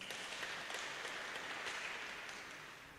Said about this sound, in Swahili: Tupiga makofi.